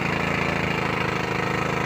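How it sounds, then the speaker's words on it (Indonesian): Engine-driven well drilling machine boring into the ground for a 3- or 4-inch bore well, a loud steady chugging engine with a rapid regular pulse, close by and continuous. "Proses masih pengeboran, entah pada kedalaman berapa ini."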